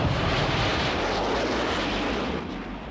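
Military aircraft in Israeli war footage, a loud continuous roaring engine drone with deep rumbling undertones, steady for several seconds before easing slightly at the end, with no voices.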